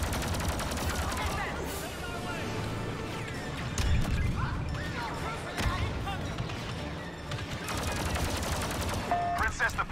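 Rapid blaster gunfire in Star Wars Battlefront II, dense overlapping bursts of shots over a loud battle din throughout, with impacts and blasts mixed in.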